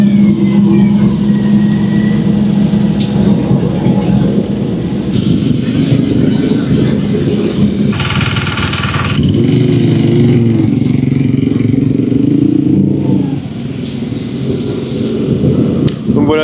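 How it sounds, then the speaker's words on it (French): Dakar 2025 rally vehicle, a car or motorcycle, setting off at a stage start, its engine noise continuous and moderately loud beneath a busy bivouac-like background, with voices talking throughout. "toutes les 30 secondes, il y a une voiture qui va partir, ou une moto"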